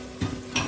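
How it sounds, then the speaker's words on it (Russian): Finely chopped garlic fries over high heat for Uyghur lagman, giving a steady, moderate hissing sizzle broken by two quick stirring clicks, with no talking. "Мелко нарезанный чеснок. Все время жарим на сильном огне."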